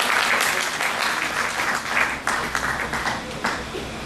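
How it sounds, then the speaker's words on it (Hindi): Loud, dense applause from a large audience at a formal ceremony honoring guests, sustained steadily for several seconds with bursts of clapping and no talk over it. "जोरदार ताली।"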